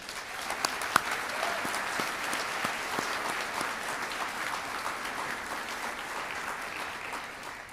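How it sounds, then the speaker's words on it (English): Sustained applause from an audience in a theater at a medical school white coat ceremony, a broad even wash of many hands clapping with a few sharper individual claps standing out near the start. "Let's give them a round of applause"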